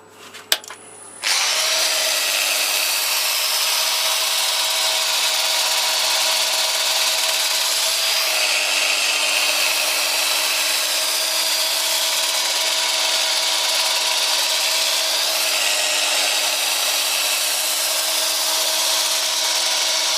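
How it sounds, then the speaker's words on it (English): Power sanding of a natural-edged holly bowl spinning on a lathe, giving a steady, loud whirring drone with a faint pitch shift partway through, running continuously for the whole stretch after a brief start. "That gives you an idea of the sanding."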